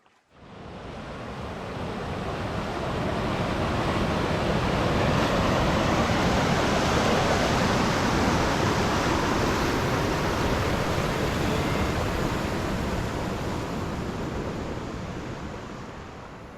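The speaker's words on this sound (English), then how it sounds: "Blueberry Falls from the bottom side." Blueberry Falls in Algonquin Provincial Park, a broad steady roar of rushing water heard from the bottom of the falls, constant and enveloping with no voices.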